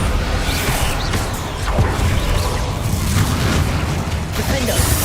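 The Bombardo explosion spell goes off in the video game Hogwarts Legacy as loud, dense booming blasts and rumbling. A voice can be heard amid the effects.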